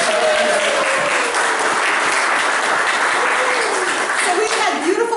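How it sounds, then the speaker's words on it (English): An outdoor audience applauds the artists of a rainy-day plein air art competition, a steady wash of clapping that runs the full length while a voice talks faintly over it at the start and end. "Can we get a round of applause for them?"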